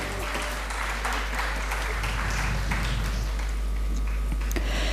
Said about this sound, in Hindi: तो एक बार फिर से जोरदार तालियां हो जाए हमारे एक्सपर्ट्स पैनल के लिए